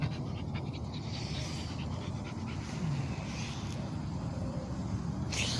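A dog pants steadily and fast close by, a continuous breathy rhythm over faint outdoor background noise at a cemetery.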